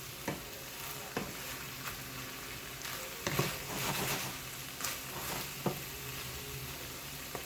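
Green beans and baby squash cook in a pan with a steady, quiet sizzle, broken by occasional sharp scrapes and clinks of stirring. A louder burst of frying noise swells midway.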